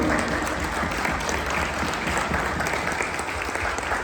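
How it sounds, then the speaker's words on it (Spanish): A church congregation gives loud, sustained applause at a Sunday service, many hands clapping in a dense, even roar from start to finish. "Dale fuerte ese aplauso al Señor."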